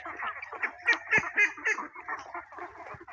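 Several short nasal quacks from a group of farmed ducks eating snails close by, repeated in quick bursts over a soft background murmur.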